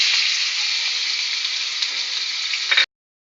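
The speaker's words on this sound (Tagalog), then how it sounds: "Actually, mainit na yung mantika. So, ilalagay na natin yung chicken." Chicken sizzles loudly in hot cooking oil, a dense continuous crackle and hiss with no talking, stopping abruptly near the end.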